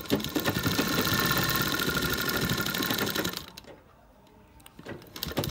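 A sewing machine stitches a pad into a blouse, running in a fast, steady, close-up mechanical chatter for several seconds before stopping, then starting again with a short burst.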